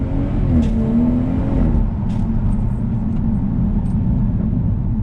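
A BMW M240i fitted with a Quicksilver valved exhaust gives a loud, continuous low engine drone. Its pitch shifts audibly early on as the car drives, with no talking.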